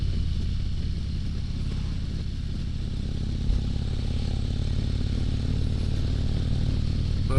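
A 2022 Harley-Davidson Street Glide Special cruises along, its engine a steady low rumble blended with wind and road roar, constant and loud throughout with no talking.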